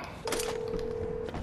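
A phone dials in the video game Vigor: a single clean, steady electronic tone holds for about a second at moderate, close-up volume, with no voices over it.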